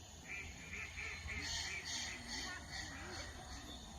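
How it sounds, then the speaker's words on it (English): Ducks quacking and honking at Bodiam Castle in a run of repeated nasal calls, moderately near over a steady outdoor background. "Just ducks."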